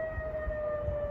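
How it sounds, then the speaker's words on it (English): A siren sounds outside in one steady, sustained tone, moderately loud against a low background rumble, with no talking. "Siren going off."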